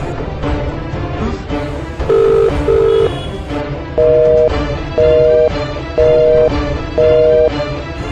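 An unanswered phone call: two short higher tones, then a steady run of four evenly spaced electronic ringback beeps, loud and close, with a faint background hum.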